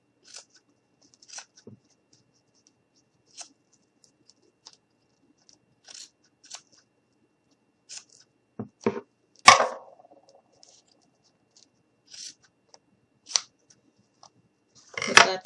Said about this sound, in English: Grab my scissors, and then I'm just going to go ahead